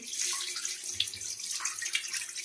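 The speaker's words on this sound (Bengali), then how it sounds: "ভালো করে ধুয়ে নিই" Running tap water splashing over raw chicken pieces being washed in a kitchen sink for soup, a steady close rush of water with small shifts as the meat is handled.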